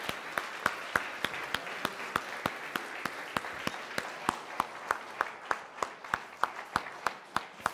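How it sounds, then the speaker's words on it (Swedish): Crowd at a gastronomy award ceremony clapping in slow, rhythmic unison, sharp regular claps roughly twice a second over a bed of scattered applause and murmur, steady and moderately close. "Folkets jubel!"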